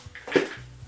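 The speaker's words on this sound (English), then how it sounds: "Dropped one of my screws." A small screw drops and lands with a single short, light metallic click, close and brief in a quiet room during work on a Singer 66 sewing machine.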